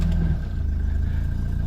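An idling car engine rumbles low and steady nearby as the car is shifted into gear, with a faint hum holding on throughout.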